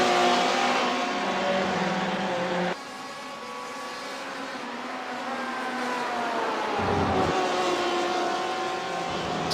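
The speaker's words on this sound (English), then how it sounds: "I'm loving the sound of the Porsche" Porsche race car engine in a sim racing game at Brands Hatch, loud and close, revving hard with rising and falling pitch through gear changes and a sudden drop as the throttle lifts, no voices.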